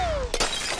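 A unicorn piggy bank falls and shatters: a brief sharp crash of breaking ceramic cuts in after a fading whistle-like tone, followed by a short scatter of debris.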